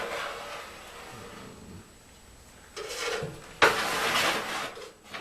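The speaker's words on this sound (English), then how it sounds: "Just reach in here and start scraping out the ashes." Gritty rasping and scraping as ashes are raked out of a wood cook stove, soft at first and then louder, closer strokes in the last seconds, with no talking.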